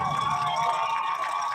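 A crowd at a soccer unity cup event cheering for Eurasia, a steady wash of shouting and whooping voices heard at a distance.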